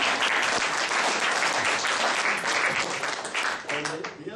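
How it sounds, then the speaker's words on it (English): Sustained applause from an audience, dense and steady clapping filling the whole stretch, thinning slightly near the end. "And the other group, they deserve applause, and Jenny's in the team."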